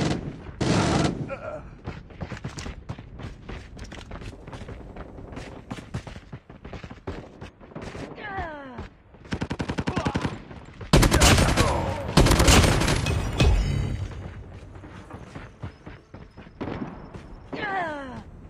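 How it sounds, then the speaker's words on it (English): Rapid automatic gunfire from a video game sentry gun, loud bursts of rattling shots with booms and game effects, a heavy intense stretch near the end. "Sentry gun deployed."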